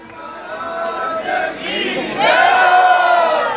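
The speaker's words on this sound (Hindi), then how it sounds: "एक बार जोरदार तालियों के साथ स्वागत करें" A large crowd at a Bhagavat Katha closing gathering cheers and shouts in welcome, a loud mass of voices that swells sharply partway through and stays strong to the end.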